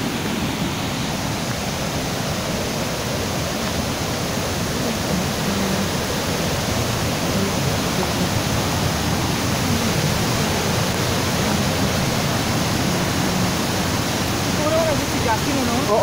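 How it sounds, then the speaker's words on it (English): Russell Falls waterfall in Mt Field National Park, heard from just upstream, roars as a steady, dense wash of falling water that stays loud and unbroken throughout. "Just upstream of Russell Falls."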